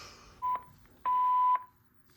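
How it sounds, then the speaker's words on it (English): Gamewell FCI E3 fire alarm notification tone from a demo system: a short electronic beep followed by a longer steady tone, clean and fairly quiet against near silence. "We are conducting a test of the fire alarm mass notification systems"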